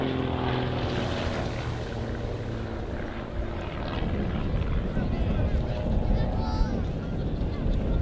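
Fireflies display aircraft flying aerobatics at the Dunsfold Wings and Wheels airshow, a propeller engine drone rising and shifting in pitch as the planes loop and roll, heard outdoors amid wind noise with a commentator talking over it.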